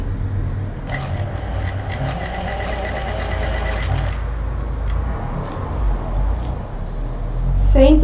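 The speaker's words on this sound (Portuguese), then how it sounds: "E vou passar uma costurinha, uma de cada lado" Sewing machine stitching fabric on a backpack, a short steady run of rapid needle strokes lasting a few seconds, then stopping, under a constant low background hum.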